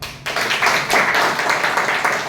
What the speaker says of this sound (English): give huge round of applause to everyone present here